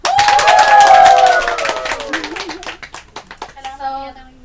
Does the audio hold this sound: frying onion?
no